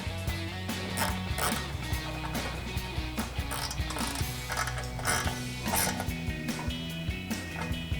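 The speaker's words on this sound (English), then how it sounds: "thread those in, ratchet, 10mm socket, and a 12mm wrench" Ratchet fitted with a 10mm socket tightening bolts on a cold air intake box in a 2016-2019 Camaro SS, a rapid steady clicking that runs close and loud throughout without any talk.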